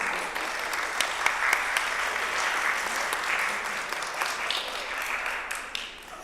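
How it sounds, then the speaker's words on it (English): A church congregation at a Sunday service breaks into a round of applause, a sustained crowd of clapping hands with a few sharper individual claps standing out, even in level and somewhat distant. "I think you should give them a round of applause"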